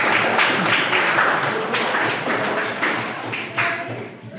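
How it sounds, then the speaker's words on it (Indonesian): Classroom applause for a student group's presentation at a teaching-practice session, a dense steady patter of many hands clapping close by for several seconds before thinning out at the end. "Tepuk tangan untuk kelompok 3."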